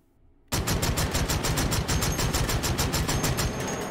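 An H&K CAWS automatic shotgun fires in the VR game H3VR, a loud sustained burst of rapid, evenly spaced blasts that starts abruptly after a brief quiet moment and runs to the end.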